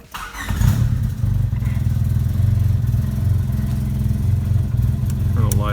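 A turbocharged Honda Civic with a newly installed fuel pressure regulator and blow-off valve cranks briefly and fires up. It settles into a loud, steady, slightly lumpy idle close by, and a voice is heard near the end.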